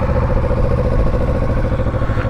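A 2017 Kawasaki Ninja 650 fitted with a Euro 4 exhaust runs close by, a steady, moderately loud engine note with a fine, even pulsing and no voices.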